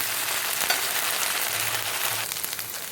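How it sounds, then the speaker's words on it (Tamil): Onions and ginger paste sizzle steadily in a hot pan, a continuous soft frying hiss with occasional louder crackles and faint stirring, heard alone without talk. "இப்போ இஞ்சியோட பேஸ்ட் மட்டும் சேர்த்துவோம்."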